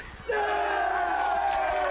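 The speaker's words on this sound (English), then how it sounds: "Monarchs are cheering on their teammate." Players on the Papillion La Vista Monarchs and Lincoln East Spartans varsity baseball teams shout a sustained group cheer for a teammate, a loud, drawn-out chorus of voices that rises suddenly and holds steady to the end.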